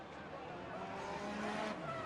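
Sports car rated 500 kilowatts and 750 horsepower, doing 0 to 60 in 2.8 seconds, its engine revving with a dense, steady roar and faint tire squeal throughout a game cutscene.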